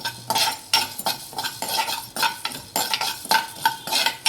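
Coriander and cumin seeds roast dry in a pan while a spoon stirs them, giving a steady run of close, rhythmic scraping rattles and light clinks with no voices.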